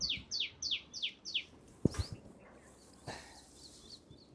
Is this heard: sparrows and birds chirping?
yes